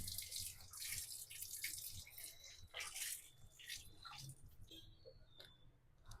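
Fresh mint leaves are washed under running water, giving a soft continuous splash and trickle at a low level with small drips throughout.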